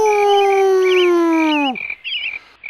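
A voice imitating a long wavering howl, loud and close, holding a steady pitch before sliding sharply down, followed by faint warbling tones.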